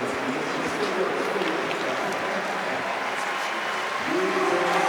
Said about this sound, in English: Can you hear that crowd?